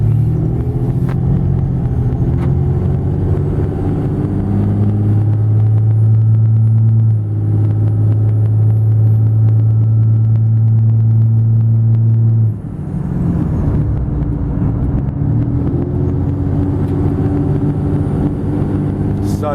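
A Cummins diesel truck fitted with a cold air intake drives along, its loud, continuous engine rumble holding steady with a rising high whine of turbo spool, then dropping and building again, close to the cabin with no talk.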